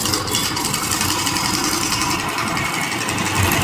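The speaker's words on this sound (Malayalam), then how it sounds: "അതാണ് എയറിൻ്റെ അടുത്ത് ഉപയോഗിച്ചിട്ടാണ് ടൈറ്റ് ആക്കിക്കൊണ്ടിരിക്കുന്നത്" A tractor-driven air compressor powering a tool that tightens girder bolts at a highway bypass worksite, heard as a continuous close engine hum with a fine rattling vibration, unbroken throughout.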